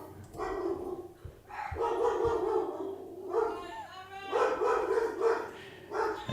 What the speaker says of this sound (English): And we end the broadcast with barking.